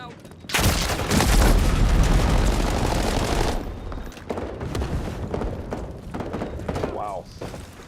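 Grenade blast in Modern Warfare multiplayer, a loud booming burst with a crackling roar that lasts several seconds and then fades into gunfire and background rumble.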